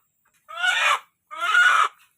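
Village chickens being caught give two loud, close squawking distress calls, each under a second, separated by a short silence.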